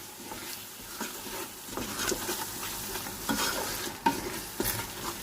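A coconut and cashew mixture for fish biryani is stirred in a hot pan, with a steady close sizzle, scraping strokes and a few sharp utensil taps against the pot.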